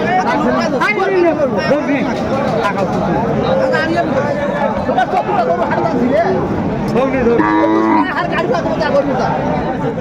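Bulls low and moo amid a busy crowd at a livestock market in Dinajpur, with steady chatter and people talking throughout the noisy scene.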